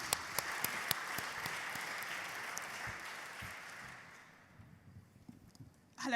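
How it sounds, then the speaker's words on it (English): Audience applause at an awards ceremony, dense crowd clapping with a few sharp individual claps, fading out after about four seconds to near quiet before a brief sound at the end. "Round of applause."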